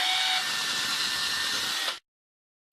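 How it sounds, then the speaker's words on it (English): A power drill with a 7/32 bit boring a pilot hole through roofing material, a steady high whine for about two seconds that cuts off abruptly, then silence. "we then use the 7/32 drill bit to drill our pilot hole"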